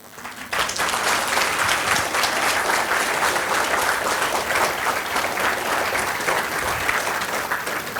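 A roomful of people clap together at a Resonance PCCP Division power session, a dense, steady wash of applause that starts abruptly and holds loud and close for several seconds.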